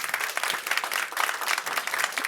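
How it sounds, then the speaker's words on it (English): A crowd applauds steadily, many hands clapping at once in a dense, sustained burst with no voices over it. "so round of applause for them"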